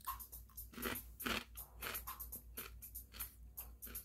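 Dry, uncooked Rum Pum instant noodles are crunched and chewed close up, a quick irregular series of brittle crackling bites with no talking.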